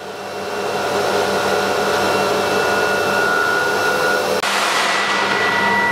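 A CNC router from the S series with an Airtech dust system runs with a loud, steady, broadband whirring roar, and its tone shifts abruptly about two-thirds of the way through.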